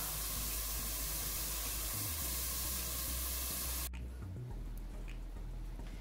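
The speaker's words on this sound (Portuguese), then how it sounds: "e deixo fritar" Shrimp fry in a pan with a continuous loud sizzle and hiss, broken by a sudden drop partway through, after which a softer crackle continues.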